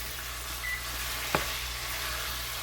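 Bacon frying in a ceramic coated pot, a steady close sizzle and crackle running throughout, broken once by a sharp little pop.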